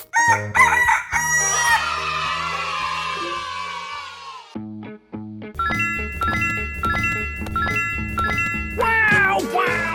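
A rooster crows loudly in a 3D animal slide video game, one long cock-a-doodle-doo followed by clucks, set against tinkling, chiming game music.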